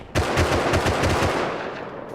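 Rapid bursts of semi-automatic rifle fire in a video game, a quick string of close, loud shots that then trail off into a fading echo with no talk.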